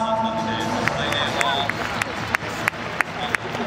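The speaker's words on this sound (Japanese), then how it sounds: "もう一度皆さん大きな拍手をお願いいたします" Audience applause for baseball draft picks at a Hiroshima Carp fan appreciation day talk show stage, a steady wash of clapping from a crowd with sharp individual claps standing out near the end.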